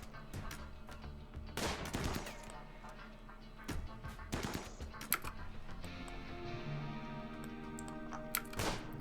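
Colonists trade gunfire in the video game RimWorld, heard as scattered sharp shots and short bursts, fairly quiet and irregular over a low background of game sound.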